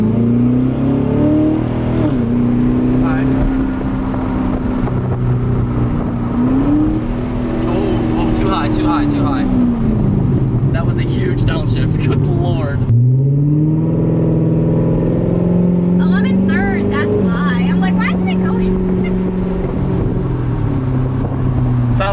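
A Chevrolet Corvette C7 with a straight-pipe exhaust accelerates hard, its loud, raw engine note climbing in pitch, briefly dropping on a downshift, then rising again close by.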